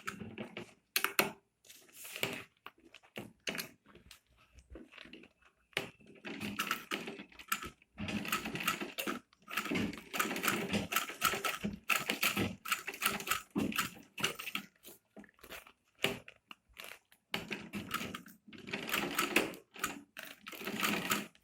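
A sewing machine stitches a zipper onto a handbag, with bursts of rapid mechanical chattering that stop and start repeatedly and brief quiet gaps between runs.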